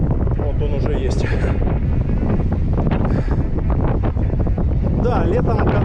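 Wind buffets the microphone outdoors in Crimea, a constant low rumbling roar with gusty crackle, while a person talks underneath.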